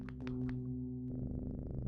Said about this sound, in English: There are a bunch of cats surrounding this guy.